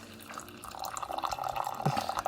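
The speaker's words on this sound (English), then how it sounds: "It's gonna pump out boiling hot water." A hot water machine pumps boiling water into an 8-ounce coffee cup, a close, steady trickling pour with bubbly splashes that builds in level as the stream continues.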